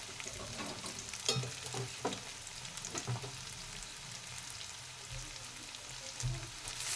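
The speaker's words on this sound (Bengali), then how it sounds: "এবার আমি যে মূলো শাকটা সেদ্ধ করে রেখেছিলাম ওইটা ঢেলে দেবো।" Boiled radish greens going into a pan of frying onion, tomato and potato masala, heard as a steady low sizzle with a few scraping stirs, quiet and close, without any speech.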